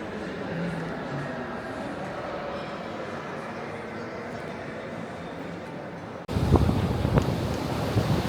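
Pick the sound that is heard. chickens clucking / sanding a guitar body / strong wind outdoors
strong wind outdoors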